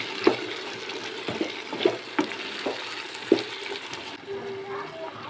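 Capsicum sizzles in a pan with mixed vegetables, a soft steady frying hiss broken by clinks and scrapes of stirring, fairly quiet and close.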